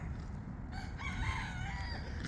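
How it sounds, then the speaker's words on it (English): Chickens cluck and a rooster crows loudly and close by, a short agitated burst of fowl calls over steady low background rumble, with no talking. "Chicken going crazy."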